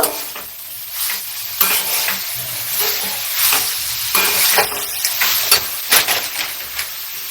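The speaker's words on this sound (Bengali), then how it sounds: "এবার গোলমরিচটা ভালো করে মিশিয়ে নেব।" Black pepper being stirred into a radish kachori filling in a frying pan, with a steady sizzle broken by repeated scraping strokes of a spoon against the pan, close and fairly loud.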